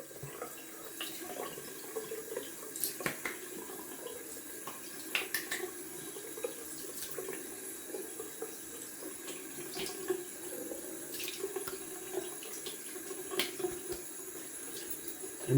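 Cold water runs from a tap in a bathroom sink during wet shaving with a Gillette Superspeed Red Tip razor, a steady soft hiss of flowing water with faint clinks, fairly quiet and close, no talking.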